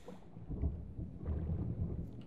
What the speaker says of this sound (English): Just thunder in my headset is...